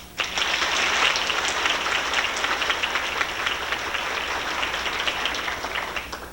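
A crowd applauds with dense, steady clapping that starts abruptly, holds at an even level for several seconds, then begins to fade.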